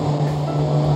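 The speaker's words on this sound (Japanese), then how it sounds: "車の音自体も結構大きな音で" Cabin of a Nissan Skyline R33 GT-R on the move with the windows fully open, a loud, steady low engine drone under rushing wind and road noise.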